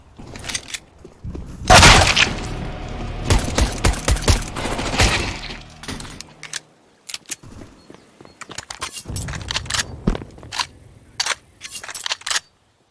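Grenade blast in Counter-Strike (CS:GO), a loud burst with debris and gunfire-like crackle, followed by scattered sharp shots and clatter across the rest of the round.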